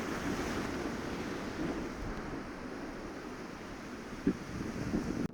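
Ocean surf washing in at Kanyakumari, a steady broad roar of waves with wind noise on the microphone and no speech.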